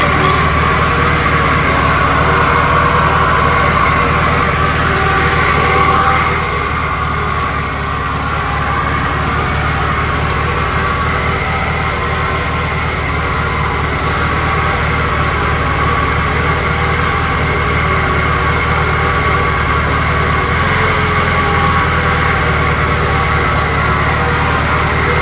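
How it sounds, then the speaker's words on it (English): Engine of a 1966 Volkswagen idling with a faint bearing whine from the generator, a loud, steady, close mechanical drone that runs unbroken throughout with no voices. "There's a bit of bearing noise in this clip here coming off of what I suspect is the generator"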